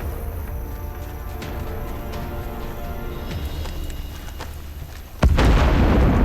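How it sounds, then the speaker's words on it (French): Artillery shelling a base in the shooter game Warface: a continuous low battle rumble with scattered faint impacts, then a sudden loud, close blast near the end that leaves a heavy roar. "Ils pilonnent leur propre base"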